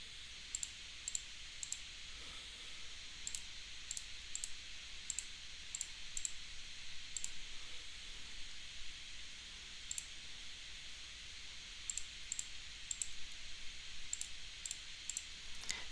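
Quiet keyboard typing while entering a payment calculation into the Desmos calculator, with faint, scattered clicks in small bursts over a low background hiss, no voices.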